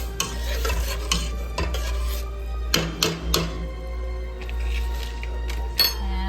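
Spanish rice gets stirred in water in a pot, with a low steady hum beneath and several sharp clinks and scrapes of a utensil against the pot at irregular intervals, nearby and fairly clear.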